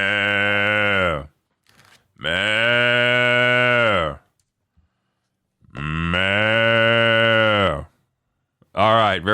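A cow moos three times in long, drawn-out calls with a short partial one at the end, each loud and close, separated by brief silences.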